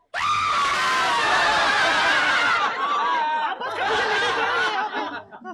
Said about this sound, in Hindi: एक लड़की चीखती है।